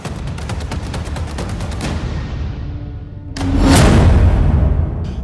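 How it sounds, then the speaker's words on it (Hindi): Hezbollah fighters launch rockets and missiles at Israeli army positions: a rapid crackling volley of firing gives way to a loud, roaring whoosh of a launch, distant yet powerful, with no voices. "हिजबुल्ला के लड़ाके इजरायली सेना के अड्डों पर भीषण रॉकेट और मिसाइल अटैक कर रहे हैं"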